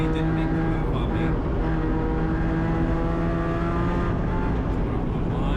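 A Spec Miata race car at MSR Houston roars at full power on track, its engine holding a loud, steady, harmonic drone that rises slightly in pitch throughout.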